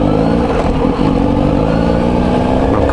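Kawasaki Z900RS motorcycle engine running through a newly fitted K-Factory aftermarket exhaust, a loud, steady, close rumble with a brief dip in revs before holding a deep, even drone.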